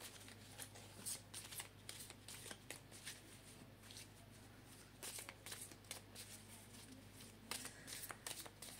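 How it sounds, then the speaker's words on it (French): Tarot cards being shuffled vertically by hand, a quiet close run of soft rapid riffling flicks that repeat in short bursts, with no speech over it. "Moi, je le brasse plutôt à la verticale."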